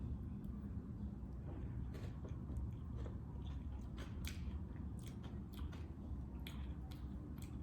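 Close, crisp crunching and snapping bites into the crunchy popping-candy-like topping of a cream cake, scattered irregular crackles over a quiet background with no talk.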